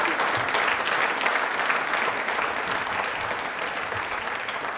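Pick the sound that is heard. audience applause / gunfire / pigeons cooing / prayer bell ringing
audience applause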